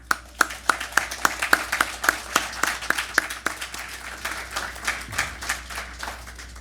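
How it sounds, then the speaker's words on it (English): A crowd applauds with a burst of sharp, irregular hand claps that soon blend into a softer, steady patter of clapping. "I'd just like to give them an applause."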